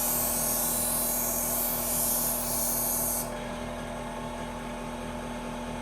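A bench grinder turned down below top speed grinds a chisel edge onto a steel reed from an antique jaw harp, a steady high whine with hiss that eases off partway through, a brief word spoken over it.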